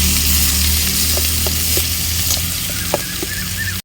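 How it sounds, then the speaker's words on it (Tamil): Onion, tomato and garlic sautéing for a crab curry, a steady close sizzle and crackle in hot oil with occasional light stirring clicks, no talk over it. "எல்லாத்தையும் நல்லா வதக்கி விட்டுக்கலாம்."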